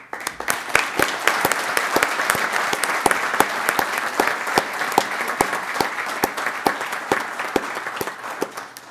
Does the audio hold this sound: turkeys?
no